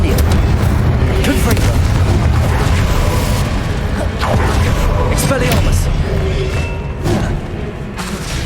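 Confringo fire spell explosions in Hogwarts Legacy combat: loud, dense booming blasts roll one after another with crashing impacts, and game voices call out over the constant roar.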